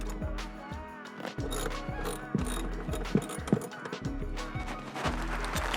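A ratchet wrench loosens 42 Nm bolts inside a BMW F33 during a car speaker upgrade. It makes a close, steady run of rapid mechanical clicks and pawl ratcheting over a low background hum.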